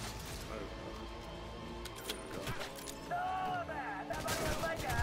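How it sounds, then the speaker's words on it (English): Rapid machine gun fire from the Cyberpunk 2077 video game on Xbox One rattles in dense bursts, mixed with other game noise and a voice talking over it. "Bro, you got a machine gun"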